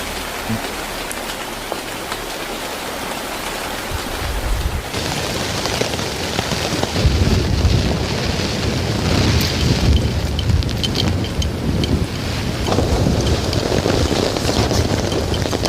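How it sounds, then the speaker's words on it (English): Steady rain falls at a campsite at night, light at first and then swelling into a heavier, dense patter that continues without pause. "rain started falling steadily"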